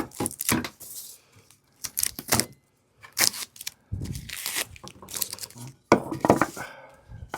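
Pieces of scrap wood for a centerpiece are pried and pulled apart from double-sided tape, giving a series of sharp tearing and clattering bursts separated by short pauses, loud and close.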